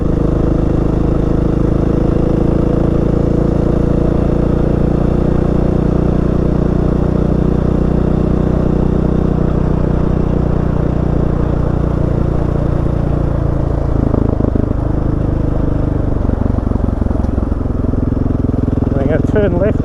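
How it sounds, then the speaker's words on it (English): Motorcycle engine on a riding track with the throttle opened along a long straight, a loud continuous close drone shifting in pitch toward the end, with wind rumble and engine clatter. "there's a big long straight here, so open it up, roll that throttle on"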